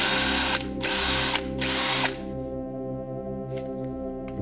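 A Parkside PWBSA 12 A1 cordless angle drill whirs loudly at close range, its motor pitch dipping briefly twice before it winds down to a lower, quieter hum.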